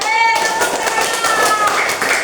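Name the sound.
children clapping hands in class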